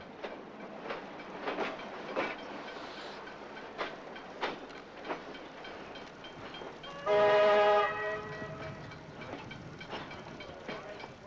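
Heritage carriages in rose red and moonstone grey livery hauled by a South Australian 930 class diesel electric locomotive, with wheels clacking rhythmically over rail joints and a loud horn blast partway through.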